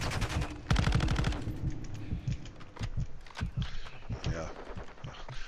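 Sniper rifle fire in the Fallout game, a dense run of rapid gunshots followed by scattered single shots and clattering thumps, with a person talking over it.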